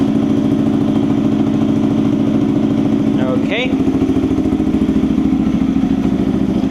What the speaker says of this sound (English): You can seldom hear any gaps on the firing of the engine, so that's the effect of the iridium spark plug.